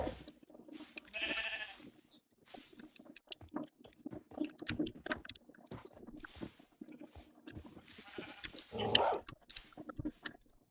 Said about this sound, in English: It keeps barking at me.